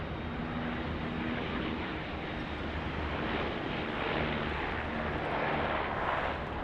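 A Dash 8 turboprop approaches to land on runway 16 right at Sydney Airport, a broad, steady engine roar heard from a distance and mixed with wind buffeting the microphone.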